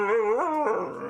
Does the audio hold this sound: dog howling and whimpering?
yes